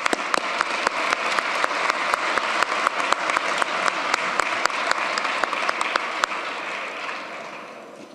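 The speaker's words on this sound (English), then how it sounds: "A big round of applause for all of them." Audience applause at Fairfax County's 2023 inauguration ceremony, a sustained burst of many hands clapping with a few sharp louder claps, steady for about six seconds before fading away.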